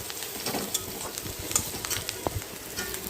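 Steady frying sizzle in a pan, with a few scraping stirs of a utensil across the surface.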